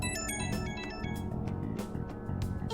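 An incoming-call ringtone from Persona 5 Strikers plays as a bright, repeating melodic chime over a continuous musical backing.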